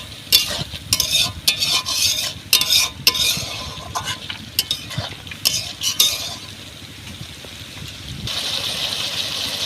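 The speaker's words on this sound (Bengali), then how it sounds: "টমেটোটা দিয়ে আমি আবার ভালোভাবে কষিয়ে নেব।" A fish curry with tomato fries in a pan, loud sizzling throughout while a utensil stirs and scrapes in quick irregular bursts, then the steady hiss carries on alone near the end.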